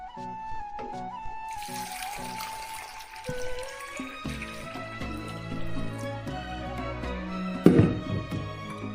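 Liquid pours into a pot while potato dextrose agar is made in a 7-litre batch, giving a steady close water sound with trickles, drips and a clunk near the end.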